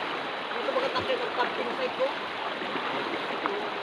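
A wide, clear, shallow river in the Sierra Madre mountains near Dingalan flows with a steady, moderate rushing murmur, while someone speaks over the water.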